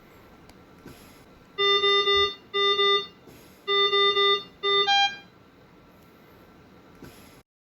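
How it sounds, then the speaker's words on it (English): A GE Aisys CS2 anaesthetic machine's gas supply alarm beeps in four bursts of rapid, high tones, the last burst stepping through descending pitches, with quiet background before and after. "This alarm sounds and an emergency message is displayed on the screen."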